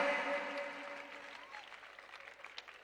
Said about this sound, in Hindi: अमाउंट छोटा नहीं है, आपकी तालियां छोटी हैं,